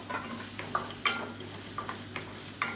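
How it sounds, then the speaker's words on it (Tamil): Long strips of medium-sized capsicum sauté in a hot pan, sizzling steadily, with a spoon scraping and clinking against the pan in irregular strokes close by. "குடமிளகா நறுக்கி வச்சுருக்கேன் இந்த மாதிரி நீளமாக அதையும் சேர்த்து நல்லா வதக்கி விட்டுக்கலாம்"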